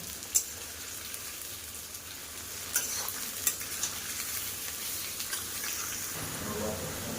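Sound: onions frying in a pan

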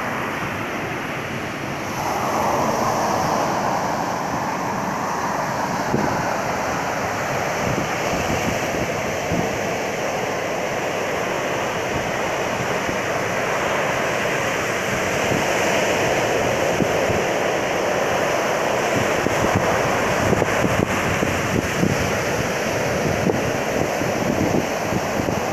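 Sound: sea waves on the shore

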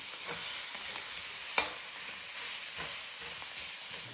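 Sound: stirring kofta mixture in an aluminum pan

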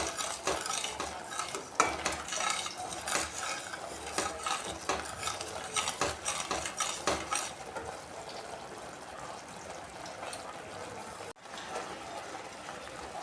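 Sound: stirring sweet dish in ghee with spatula

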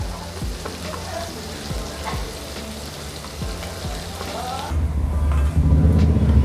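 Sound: onion and whole spices sautéing in a pan

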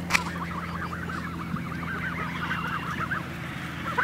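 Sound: geese honking

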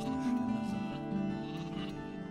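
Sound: sheep bleating in video game Gothic 2

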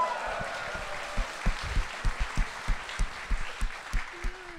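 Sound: audience cheering and applause

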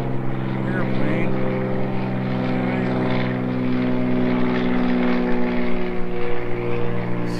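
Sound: airplane flying overhead

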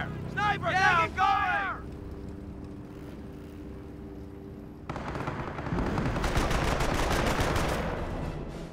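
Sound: gunfire in the video game Company of Heroes

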